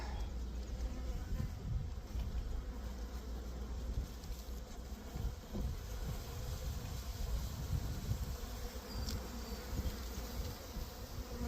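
Honey bees buzz around a hive frame in a steady, dense drone that fills the whole stretch, close and moderately loud, with faint rustling beneath.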